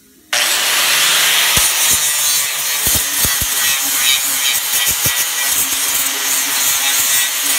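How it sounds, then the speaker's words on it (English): A flap wheel on an angle grinder works over a grinder storage rack, giving a loud, steady abrasive grinding that runs throughout with scattered sharp clicks and scrapes on top. "now we're gonna clean it up with the flap wheel"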